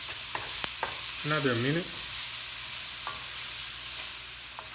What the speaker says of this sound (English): Now it's time to put our onions.